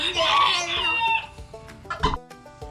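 A young rooster on a Tennessee homestead clucks and squawks close by in a short burst of agitated calls, with brief human speech mixed in.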